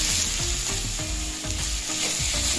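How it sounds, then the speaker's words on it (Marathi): Potatoes frying with green chillies in a pan for aloo paratha filling, a dense, continuous sizzle with rhythmic stirring scrapes, close and loud throughout. "आता यामध्ये मी बटाटे घालते"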